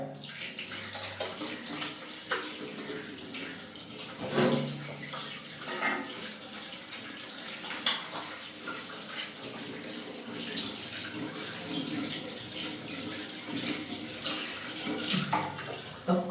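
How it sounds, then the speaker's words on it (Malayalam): A tap runs steadily into a sink while hands are washed, a continuous close splashing with small shifts in flow as the hands move under the stream. "ഇനിയിപ്പോൾ ഞാൻ കൈ കഴുകണം കേട്ടോ കൈ കഴുകിയില്ലെങ്കിൽ ശരിയാവില്ല"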